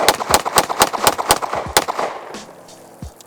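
A Hi-Point C9 9mm pistol fires about nine sharp, loud shots in quick, even succession, followed by a brief ringing tail and a faint mechanical click near the end.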